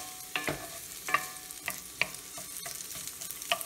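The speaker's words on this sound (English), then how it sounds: "Gonna grill these onions real nice because they're gonna go on the bun." Onions sizzling on a hot grill for a chorizo and onion burger, a steady frying hiss broken by several sharp scraping clicks of a spatula stirring them, close and moderately loud with no talk.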